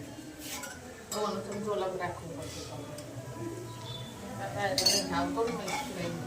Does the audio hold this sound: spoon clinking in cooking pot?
yes